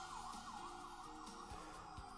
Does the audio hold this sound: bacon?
no